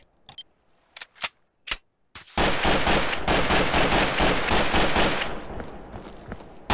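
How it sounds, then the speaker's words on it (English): Gunfire in Garry's Mod: a few isolated sharp shots, then a sustained dense burst of rapid automatic fire that stays loud and close for several seconds. "Wait, someone's shooting me?"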